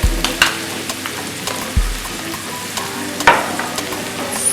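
Chickpea curry sizzles in a pan while a spoon stirs it, giving a few sharp scraping knocks over a steady crackle, close and moderately loud.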